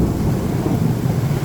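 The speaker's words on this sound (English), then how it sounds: "Rain, thunder, and lightning, possibly hail." Thunder rumbles through a rain storm, a loud, deep, sustained roll with a rain hiss layered on top, no voices.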